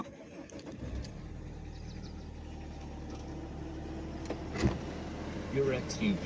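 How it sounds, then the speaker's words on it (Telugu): Electric sunroof sliding open on a 2018 Mahindra XUV500 W11 automatic with the engine idling, a faint motor hum over the steady low drone of the running car, with a voice speaking now and then. "మళ్ళీ సింగిల్ ప్రెస్ చేస్తే మనకి ఇట్లా సన్ రూఫ్ అనేది ఓపెన్ కావడం జరుగుతుంది"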